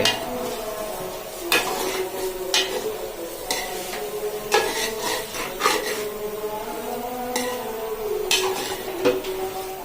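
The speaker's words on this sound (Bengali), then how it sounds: "কিছুক্ষণ পর পর আবার তুলে বা নাড়াচাড়া করে দেবেন যাতে সবজিটা পাতিলের নিচে না লেগে যায়" Vegetables are stirred in a cooking pot, a spoon clanking and scraping against the metal in uneven bursts over a faint sizzle, close by, with no voices.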